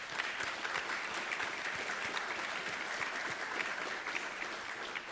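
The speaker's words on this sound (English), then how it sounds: "Please join me in a round of applause for them, please." Conference audience applauding departing institute leaders, a dense, even roar of many hands clapping throughout, steady and fairly distant.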